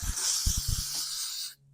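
Hairspray hisses onto hair from an aerosol can in one steady, close burst of about a second and a half, with faint low thumps underneath, ending abruptly.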